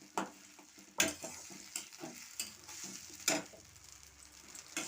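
Ground onion, ginger, garlic, cumin, green chilli and tomato paste sizzles gently in a pan, while a spoon scrapes and stirs it with irregular, sharp strokes close by.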